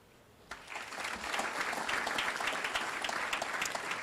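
An audience at a women's hockey awards celebration breaks into applause, the clapping starting abruptly and swelling into a steady, full-room patter that continues to the end.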